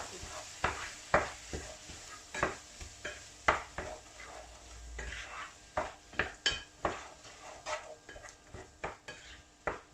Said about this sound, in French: Donc là je vais mélanger, idem.